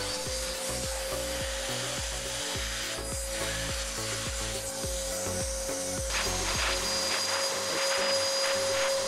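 A vacuum cleaner runs steadily, sucking dust and debris out of freshly drilled holes in an uneven attic wall ahead of resin injection, its constant whine sitting over rhythmic low knocks and scraping as the nozzle works the holes.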